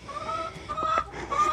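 A little Belgian rooster makes a few soft, short clucks and calls in a backyard flock, close and moderately quiet, spaced unevenly over low background noise.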